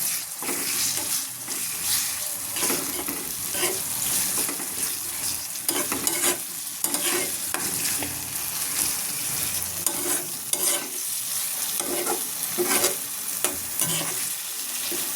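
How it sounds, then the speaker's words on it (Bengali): Onions sizzle in hot oil with ginger-garlic paste and spices, a steady close frying hiss broken by scraping stirs and occasional clinks, no talking. "পেঁয়াজগুলো বাদামি হয়ে আসছে, এখন একটু মশলা দিয়ে দিলাম, আদা রসুন বাটা"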